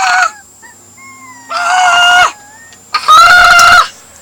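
A person's voice imitates a penguin with three loud, nasal, honking squawks. The bursts are close and harsh, separated by short pauses filled with faint squeaky vocal tones.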